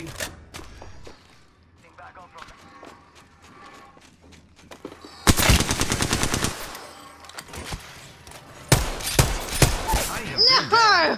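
Automatic gunfire in the shooter Apex Legends, with scattered single shots early on, then two loud sustained bursts of rapid fire, close and dense, over steady game ambience.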